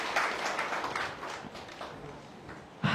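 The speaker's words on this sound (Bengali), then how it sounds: "এটা হাততালি দিয়ে ওনাদের জন্য।" Applause for participants at a communication skills class, a short patter of clapping from a small group that fades out, then a sharp louder burst at the end.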